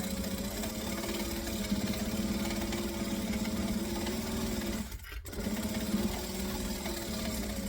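A sewing machine stitching at 2.5 stitch length runs in a steady, fast mechanical whir with rhythmic ticking, close and continuous, briefly pausing for a moment before resuming.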